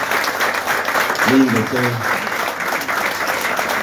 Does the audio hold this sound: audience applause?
yes